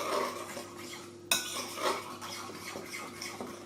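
Stirring tomatoes into crème fraîche seasoned with salt and pepper, a utensil clinking and scraping against a bowl in a close, quiet kitchen, with one sharper knock midway.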